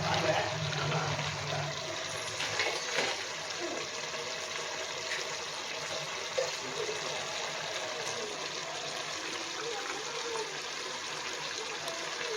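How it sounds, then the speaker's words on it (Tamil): Measured water, about nine glasses for six of soaked rice, is poured into a pot of mutton biryani, making a continuous close gushing and trickling sound for over twelve seconds. "இப்போ நம்ம வந்து தண்ணியை அளந்து விட்டுக்கலாம்."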